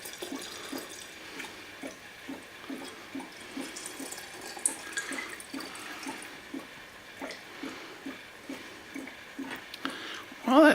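Alcohol being poured over 14 figs in a container, a steady liquid pouring with small splashes and drips running throughout, close and fairly quiet, ending in a brief louder splash.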